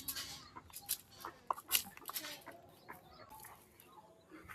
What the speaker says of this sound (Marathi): लंगडी कोंबडी.